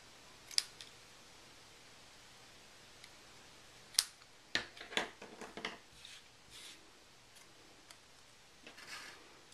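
Paper banner snipped with scissors while trimming a treat bag, a few sharp, dry snips and crisp clicks scattered across an otherwise quiet stretch, close and fairly soft, with no talking.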